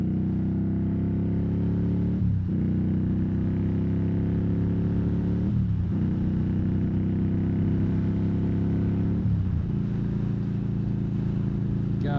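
A 2020 Indian Scout Bobber motorcycle engine drones steadily at close range while riding, with three brief dips in pitch like gear shifts, loud wind-buffeted rumble throughout.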